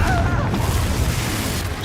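Confringo fire-blast spell bursting in Hogwarts Legacy: a loud, rumbling boom that swells and rolls on steadily for a couple of seconds, with crackling debris over a heavy low roar.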